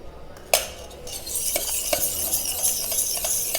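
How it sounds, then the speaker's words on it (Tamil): Cooking oil being spread around a silver cake pan: metallic scraping and swishing, with a sharp clink at the start, then continuous close rubbing and light tapping against the pan. "இதில் வந்து நல்ல ஆயிலை க்ரீஸ் பண்ணிக்கிறோம்."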